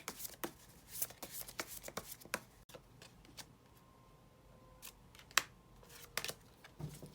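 Tarot cards are shuffled and drawn in short, soft flicks and slaps at close range, an irregular patter of crisp card noises with no talking.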